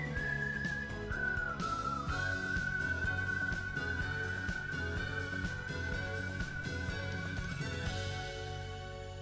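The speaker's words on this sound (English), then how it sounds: "If we hear more whistling, then it is 1, 2, 3, and 4 are the whistles" A whistled melody plays in the Wild Arms 3 video game, one long sustained whistle tone bending down then holding steady over a bed of game music, clear and continuous.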